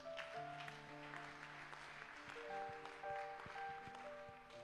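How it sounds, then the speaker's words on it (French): A church congregation applauds and acclaims Jesus Christ during a French-language service, a faint, steady patter of clapping under sustained musical tones from a keyboard, distant and low in level. "On peut acclamer Jésus-Christ."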